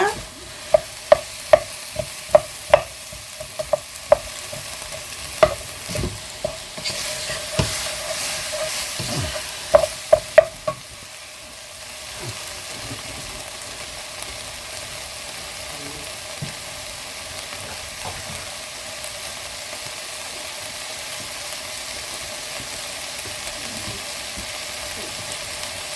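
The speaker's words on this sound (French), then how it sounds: "Donc on mélange bien." Beef and carrots are stirred in a pan, with a run of sharp utensil taps against the pan over a low frying sizzle early on, then a quieter, steady simmering crackle for the rest.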